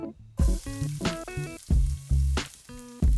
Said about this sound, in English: Now toss in the garlic,